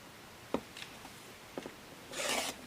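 Scissors cut through fabric and paper while making quilt trading cards: two short crisp snips, then a longer, louder rasping cut near the end, close and alone in a quiet room.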